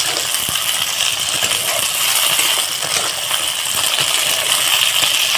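Okra frying in a pan, a steady dense sizzle with fine crackling spatters running evenly throughout, fairly loud and close with no talking.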